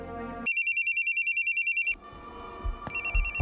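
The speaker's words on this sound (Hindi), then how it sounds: "पंकज का फ़ोन है।" A telephone rings indoors in a Hindi crime drama scene, two bursts of rapid electronic trilling with a short pause and some background noise between them.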